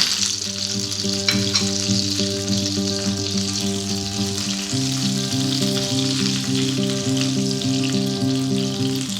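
Sausages frying in a pan for a bonfire sausage casserole, giving a loud, constant sizzle and spatter that runs unbroken throughout, with a steady humming tone underneath.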